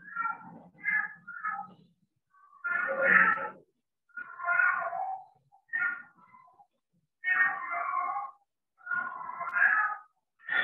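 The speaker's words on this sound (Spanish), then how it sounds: "Por ahí lo voy a hablar con este gato." A cat meows repeatedly in separate, drawn-out calls with short pauses between them, close and clear against a quiet background, with no one talking.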